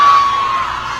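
A concert crowd at a K-pop-style singer's show in Singapore shouts and cheers loudly with a continuous wash of high-pitched screaming voices up close.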